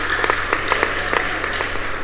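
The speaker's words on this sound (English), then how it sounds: "Can we clap for her?" An audience at a Christian youth forum applauds for a participant, a dense steady patter of many hands with a few sharper claps standing out, moderately loud and continuous.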